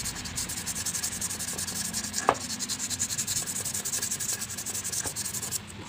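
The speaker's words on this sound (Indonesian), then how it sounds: "kita tinggal gosok saja pakai amplas" 240-grit sandpaper rasps back and forth over hard PVC pipe in quick, even strokes, close and continuous.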